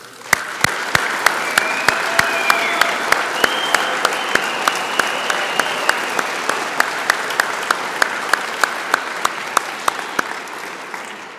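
Sustained applause from a hall of fame induction ceremony audience honoring athlete inductees, a steady wash of many hands clapping for about eleven seconds with a few sharp individual claps standing out near the microphone.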